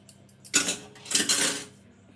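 Eggs are beaten in a bowl with a whisk or fork: two short bursts of brisk clinking and scraping, close and fairly loud, against a quiet background.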